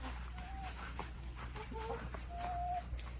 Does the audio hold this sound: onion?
no